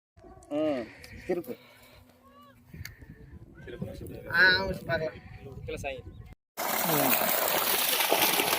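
Water gushes steadily from a 3 hp PMSM solar-powered farm pump running on six panels. The strong, continuous rush starts abruptly in the final two seconds, after a quieter stretch of honking calls and background noise.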